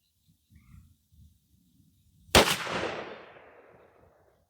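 A single loud blast from a Mossberg 835 12-gauge shotgun firing a 3.5-inch Remington Premier Magnum turkey shell with 2 oz of #5 shot, outdoors, with a sharp report and a long decaying echo after faint low rumbles.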